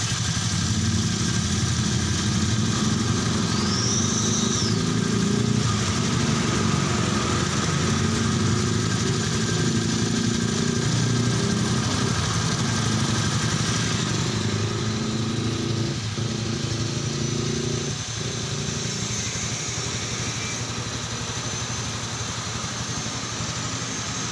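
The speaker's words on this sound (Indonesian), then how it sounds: "dan ini motor udah hidup ya." A Honda Vario Techno 125 scooter engine idles close by, a continuous buzzing drone that holds steady throughout with no talking.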